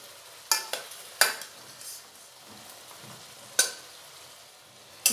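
Fried potatoes, flat beans and spices are stirred in a pan. A soft, steady sizzle runs underneath while a spatula scrapes and knocks against the pan in a few sharp, separate strokes, with no talking.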